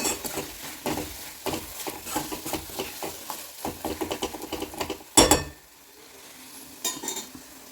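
Spiced gravy with coriander powder and chilli powder being sautéed and stirred in a pan, a series of scraping and clinking ladle strokes against the metal with a soft sizzle underneath, ending in a sharp clank and then a quieter pause.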